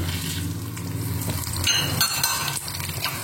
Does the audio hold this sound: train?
no